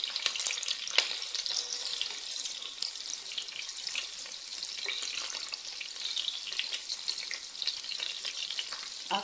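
Sausages fry in oil for a Ugandan-style sausage sauce, giving a constant bright crackling sizzle with occasional stirring clicks and no talking.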